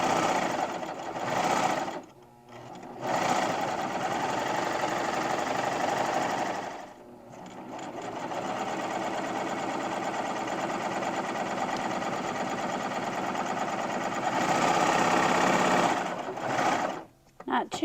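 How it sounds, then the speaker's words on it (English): A serger stitches the shoulder seam of a shirt, a steady fast mechanical whir running in long bursts with short pauses between passes, close and fairly quiet. "we're going to serge this tiny little seam."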